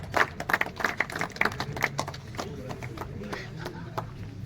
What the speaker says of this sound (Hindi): आपकी तालियों की गड़गड़ाहट में बुलाना चाहूंगा सुंदर दास गोरानी जी को